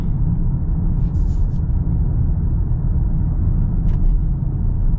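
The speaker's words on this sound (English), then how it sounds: "we're just cruising in the EV mode" Inside a 2025 Toyota Camry hybrid cruising in electric mode, a steady low road rumble and tire hum fills the cabin, with a couple of faint brief high ticks and no engine note.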